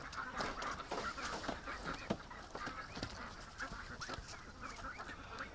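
A flock of backyard ducks keeps up a faint, continuous chorus of overlapping quacks and murmurs, steady and somewhat distant, with no speech.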